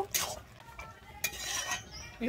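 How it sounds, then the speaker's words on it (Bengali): Spoon stirring fried puti fish and crushed bori into malabar spinach seeds in a pan, giving close scraping and clinking strokes with soft sizzling beneath, several bursts over a couple of seconds. "বড়ি আর পুঁটি মাছটা দিয়ে কিন্তু আমি আবারও খুব ভালোভাবে মিশিয়ে নেব।"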